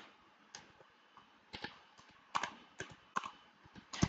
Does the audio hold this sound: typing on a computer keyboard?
yes